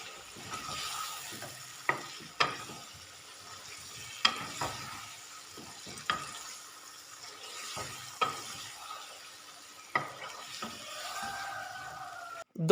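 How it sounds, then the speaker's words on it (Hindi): Tinda gourd and mutton fry in masala, a low continuous sizzle broken by regular sharp knocks and scrapes of a spoon stirring against the pot, fairly quiet and close. "सब्ज़ी और गोश्त शामिल करने के बाद मसाले के अंदर 2 मिनट के लिए हमने इनको लाजमी पका लेना है"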